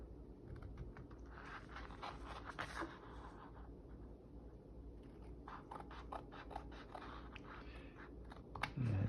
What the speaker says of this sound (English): So I'm cutting out what happens to be a 4-inch square.